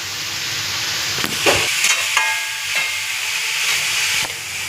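Steady hot-oil sizzle and hiss as leafy greens go into a pan of spiced oil with coriander powder, a few sharper bursts marking the greens landing and being stirred, close and continuous.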